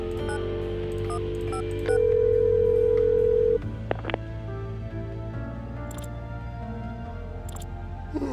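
A phone call placed in a game, with a steady tone that shifts pitch partway and a brief tick, running several seconds with no answer and no talking.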